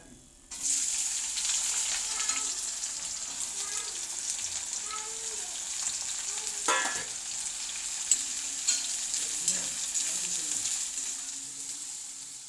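Chopped shallots and green chili frying in hot oil, a continuous bright sizzle with occasional stirring scrapes and small pops, close and steady throughout.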